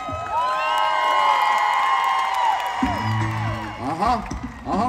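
Voices in an open-air amphitheater crowd cheer loudly with long, sustained whoops that fade after a few seconds, followed by talking and scattered shouts.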